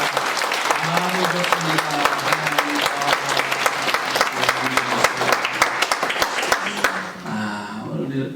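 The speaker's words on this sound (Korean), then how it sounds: "뜨겁게 박수로 환영하겠습니다" A church congregation claps warmly and steadily to welcome new members, with someone speaking over the applause before it tapers off near the end.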